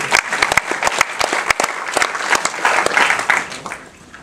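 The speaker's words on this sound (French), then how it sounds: "vous pouvez applaudir d'avance pour la traduction" An audience applauds ahead of a film presentation with director Apichatpong Weerasethakul, dense clapping with distinct sharp claps close by, fairly loud and continuous before easing toward the end.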